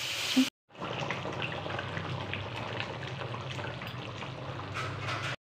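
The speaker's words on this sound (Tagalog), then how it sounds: "Prito mo ng atay." A steady sizzling hiss of pork liver frying in a pan runs close and even after a brief sound and a short silence, then stops abruptly.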